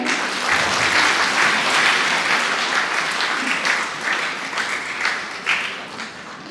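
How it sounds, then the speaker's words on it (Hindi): A large audience applauds steadily for several seconds at a church vestition and first profession ceremony, with a dense wash of clapping that fades slightly toward the end and some voices underneath. "सब लोग ताली बजाएं"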